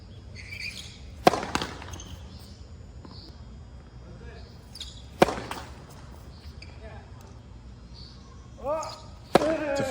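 Tennis balls are struck hard on T serves from the ad side during college training, three sharp cracks spaced a few seconds apart, with people talking in between and some squeaks near the end.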